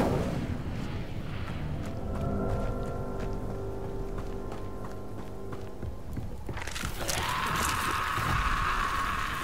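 The Incendio fire spell cast in Hogwarts Legacy, a rumbling, crackling magical blast over a busy game background, with a sudden bright hissing burst of flame near the end.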